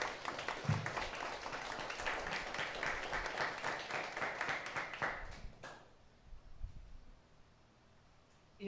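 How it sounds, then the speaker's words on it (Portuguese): A church congregation applauding during a service, many hands clapping steadily for about five seconds before stopping abruptly, leaving a quiet room with faint low murmurs. "Aplauda ao Senhor Jesus."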